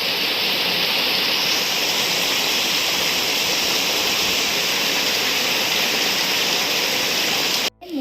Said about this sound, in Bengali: ঝমঝম করে বৃষ্টি এলো, দেখো।